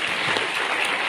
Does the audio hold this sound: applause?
yes